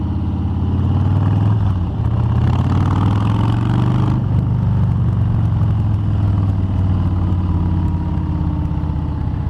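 A 2018 Harley-Davidson Street Bob motorcycle with a 107 cubic inch engine revs loudly and close, its deep throbbing exhaust rising and falling in a couple of throttle blips without any talk.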